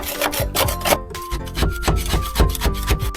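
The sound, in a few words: steel wire brush on angle grinder sanding van body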